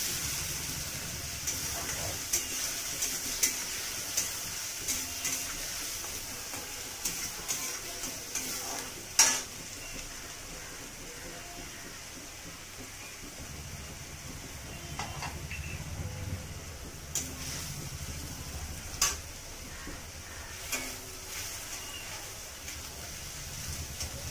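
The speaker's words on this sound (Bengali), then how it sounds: "পেঁয়াজ রসুন একসাথে দিয়ে দিচ্ছি, দিয়ে ভালো করে ভেজে নেব" Grated onion and garlic frying in oil for a katla fish curry, a low steady sizzle with scattered light stirring scrapes and clinks throughout, fairly quiet and without talk.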